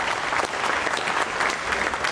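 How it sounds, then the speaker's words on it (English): Hearty applause from staff in the Jupiter control room after Ariane 5 separation of the GSAT-31 satellite, a dense, close burst of clapping that holds steadily throughout. "you heard the applause from people here in Jupiter"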